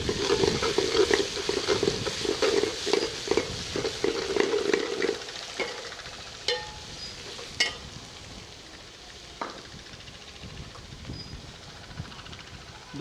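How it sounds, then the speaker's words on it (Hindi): Ginger garlic paste frying with golden onions in a pan for an achari chicken dish, a close, loud sizzle with stirring scrapes at first that fades to quieter crackling and occasional clinks. "अब इस मौके पे अदरक लहसुन का पेस्ट है, 1 चम्मच मैं इसमें डाल देता हूँ।"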